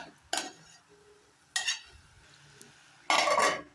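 Cabbage curry is stirred in a pan in three separate bursts of scraping and clinking with a spoon, with quiet pauses between them and a faint background sizzle.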